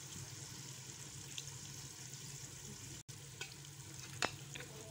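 Masala fish curry simmers quietly in a pan with a faint, low sizzle. Occasional light clinks and scrapes come from a spoon stirring and serving it out.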